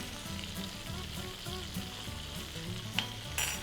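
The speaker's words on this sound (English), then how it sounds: "Now these are around 3 to 4 aubergines that I'm adding" Aubergines fry with turmeric and salt in a pan, giving a steady sizzle with low clattering stirring and a couple of sharp utensil clinks near the end, faint and without speech.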